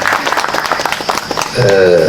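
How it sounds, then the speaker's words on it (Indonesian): A gathering in Indonesia claps briefly for the Minister of Religious Affairs, scattered, uneven claps for a moment before a sustained voice or tone takes over at the end. "Pak Menteri Agama, kita ucapkan tepuk tangan."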